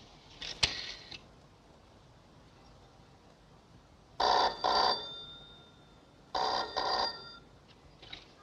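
A telephone rings while a call is placed: two double bell rings, clear and moderately loud, after a faint click of dialing, with quiet pauses between and no voices.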